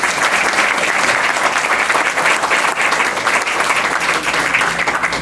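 Loud sustained audience applause at a book presentation welcoming a guest, dense even clapping from a full room throughout with no voices.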